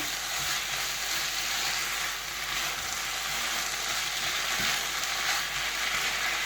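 A tomato-ketchup pizza-bite filling being mixed and cooked in a pan, giving a soft steady sizzle with occasional light stirring knocks, moderately quiet and without speech.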